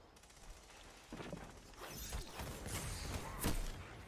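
Gunfire striking a Nightstalker Hunter in Destiny 2 PvP, faint crackling shots and sharp impact bursts layered over quiet game ambience, with a louder hit near the end.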